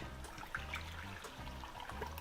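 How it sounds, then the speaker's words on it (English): Hot water is poured into a pot of browning lamb curry, giving a soft, quiet liquid splash and trickle over a low background hum. "then we will add some water to it. And I will use hot water"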